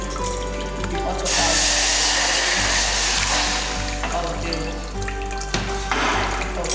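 Hot water rushes and splashes steadily for several seconds into a pot of boiling beans, a broad hissing pour with a low hum underneath, close by.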